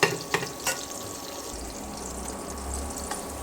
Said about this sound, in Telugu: మంచిగా ఫ్రై చేసుకోవాలి.